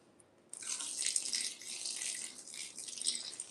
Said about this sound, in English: Let me give this plant some water.